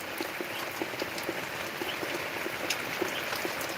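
Heavy rain pours down steadily in a farming village, a dense continuous hiss of drops with brief louder spatters scattered throughout, close and enveloping, with no voices.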